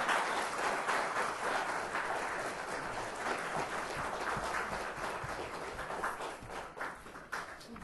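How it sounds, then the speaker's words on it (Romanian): A lecture audience claps at the end of a talk, a sustained, rain-like patter of many hands that slowly fades over about eight seconds with no voices over it. "să-L aplaudăm pe Sfântul Ioan Casian"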